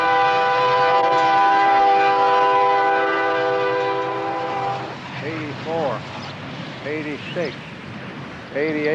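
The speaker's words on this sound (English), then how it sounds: "There's average 100-car train." A 100-car freight train passing close by, opening with a long steady horn blast that gives way to rumbling wagons and clattering wheels, with people talking over the noise.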